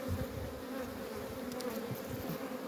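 Honeybees from an 8-frame package colony of Kılıç bees drone in a dense, continuous buzz close up, steady throughout with faint handling bumps underneath.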